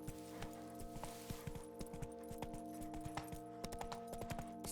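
Hoofbeats of a galloping horse in the Witcher 3 video game, Blood and Wine expansion, a steady clip-clop rhythm of close, sharp impacts running over a bed of sustained game music.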